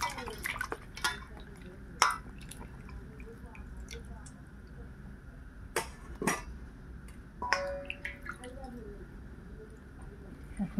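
A bottle gourd being rinsed in water, giving soft drips, splashes and squishy handling sounds with a few sharper knocks like a pot or dish, close up over a steady background hum.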